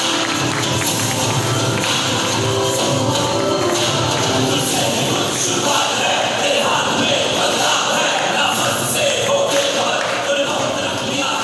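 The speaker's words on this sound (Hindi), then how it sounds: "जोरदार तालियां, जोरदार तालियां।" A large audience at a leadership program event in Ramnagar applauds loudly and continuously, a dense wash of clapping with crowd noise and cheering that never lets up.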